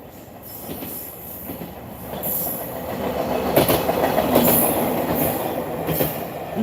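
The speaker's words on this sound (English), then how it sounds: "All right, let's watch the train." A local rail line train in Japan passes close by, with rumbling wheels, rhythmic clickety-clack over the rail joints and squealing wheels, building in loudness as it goes by.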